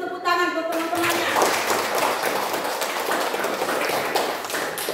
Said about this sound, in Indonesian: Kita beri dulu tepuk tangan buat teman-temannya.